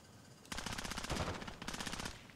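Automatic gunfire in Call of Duty: Warzone: a fast, rattling burst of rapid shots, a brief gap, then another burst, fairly loud and steady.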